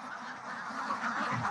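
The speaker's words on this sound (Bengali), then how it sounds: "এই হাঁসগুলোর জাত হচ্ছে আমরা খাকি ক্যাম্বেল" Khaki Campbell ducks on a farm, a flock quacking and chattering continuously at close range, with overlapping calls forming a steady, busy din.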